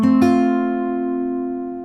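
Single fingerstyle acoustic guitar chord from a theme of Up, a low open E bass note followed by the plucked chord, ringing out and slowly decaying, close and alone.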